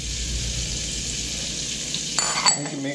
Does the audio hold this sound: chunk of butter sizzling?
yes